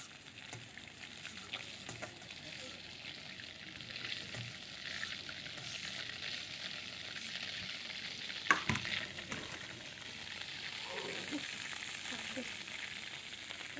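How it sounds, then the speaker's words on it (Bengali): Something frying lightly in oil, a steady low sizzle with occasional stirring scrapes and a single clear knock midway, continuous and fairly quiet. "বেশি ভাজবো না, হালকা করে ভাজলেই হয়ে যাবে।"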